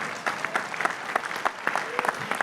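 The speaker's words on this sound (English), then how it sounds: "so I'm going to applaud for myself." Scattered, fairly light clapping breaks out at a Tableau keynote at Dreamforce 2024 after a new product is unveiled; individual claps stand out over a soft room background, with faint voices underneath.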